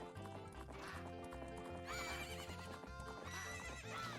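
Horse neighing and galloping in the video game The Legend of Zelda: Majora's Mask, rhythmic hoofbeats under a whinny, with game music playing throughout.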